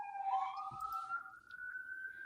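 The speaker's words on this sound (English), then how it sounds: "Sirens." A wailing emergency siren sweeps smoothly upward and holds, heard alone at a moderate distance with a steady, piercing tone.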